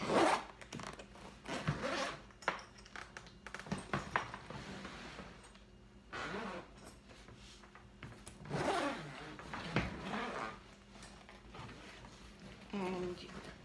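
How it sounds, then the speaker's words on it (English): Repeated luggage zipper pulls rasp in short bursts, close up, separated by pauses and light handling noises, with a voice speaking at times. "You unzip it like that."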